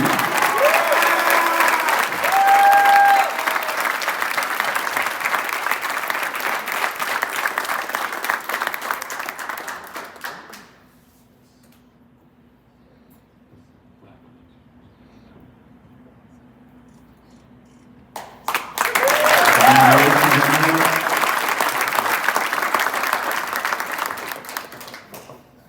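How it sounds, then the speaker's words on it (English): Loud crowd applause at a Nashville SC Unified Team signing day honoring a player, clapping and cheering for about ten seconds, a quiet lull, then a second strong burst of applause with whoops. "please give a huge round of applause for Ahmed"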